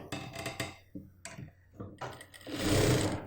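A sewing machine stitching a churidar pant runs in short start-stop bursts, then a longer faster run at the end, close and fairly quiet with no talking.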